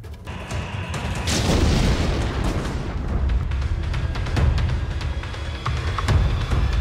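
Explosions from bombardment in Kharkiv, Ukraine boom one after another over a continuous rumble, with heavy low blasts, a big swell early on and sharp cracks scattered throughout.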